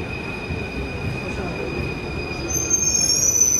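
Paris Metro train wheels squeal steadily as a carriage rolls along, a constant high-pitched whine over a rumbling, noisy background that grows slightly louder toward the end.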